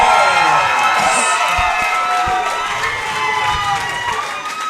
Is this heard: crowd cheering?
yes